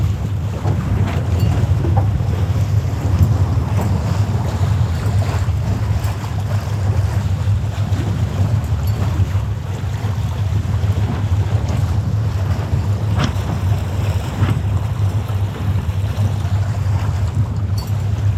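A small motorboat moves across open water among many small boats, with steady wind buffeting, a constant low rumble and wash of waves throughout.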